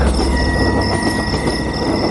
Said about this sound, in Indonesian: sampai terdengar ada kereta api mendekati ke arah kami.